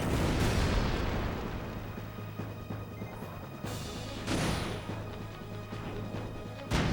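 Enemy gunners fire in Final Fantasy X on PS2, heard as loud, booming bursts of game gunfire and blasts over a steady rumbling background, with sharp hits near the start, middle and end.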